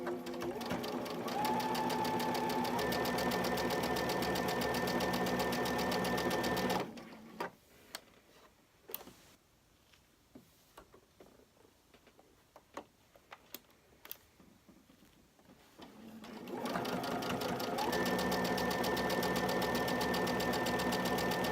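Electronic sewing machine stitching a quilt block, running steadily with a loud, even mechanical whir for several seconds, stopping for a quiet stretch with small clicks, then starting up again.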